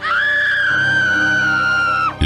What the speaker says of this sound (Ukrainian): вона з жахом почала кричати